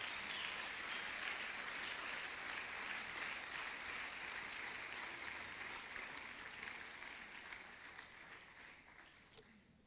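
A church congregation claps together in a dense, sustained burst of applause that gradually fades toward the end.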